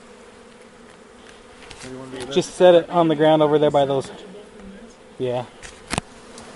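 Honeybees from a beehive extraction during pest control work buzz close by, a steady drone under a person speaking at length, with short bursts of other talk.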